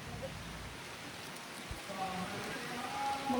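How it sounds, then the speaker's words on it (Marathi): Soft, steady rain patters faintly in the background, a gentle continuous hiss of drops. "जरा पाऊस यायला लागलाय."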